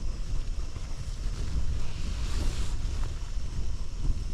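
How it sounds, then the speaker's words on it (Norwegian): Steady wind rushes and buffets outdoors on a mountain in the dark winter season, a continuous broadband roar with low gusty rumble, loud and close, no voices. "Det begynte å blåse litt mer."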